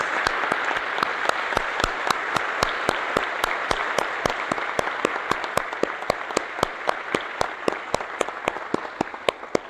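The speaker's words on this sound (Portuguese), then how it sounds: "Uma salva de palmas às nossas mães." A church congregation claps for the mothers at a Sunday service in Balneário Camboriú, a long, loud round of steady, evenly paced applause with crisp claps standing out, sustained for nearly ten seconds.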